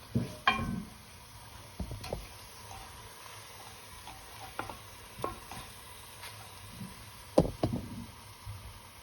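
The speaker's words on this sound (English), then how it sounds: "they've been frying up now for quite a bit" Garlic frying in a pan for marinara sauce, a faint steady sizzle with scattered close knocks and stirring taps from a utensil against the pan, with no voices.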